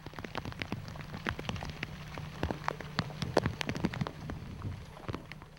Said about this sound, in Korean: 장마전선이 북상하면서 비구름이 섬을 뒤덮었다. 비가 오면 꼼짝없이 갇히고 마는 것이 섬이다.